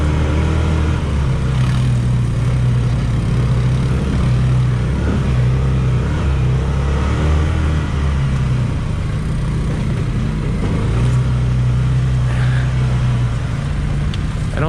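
A Can-Am Defender XMR side-by-side drives an icy trail, its engine holding a steady, loud mid-range drone with slight rises in revs. The rumble stays close and continuous throughout.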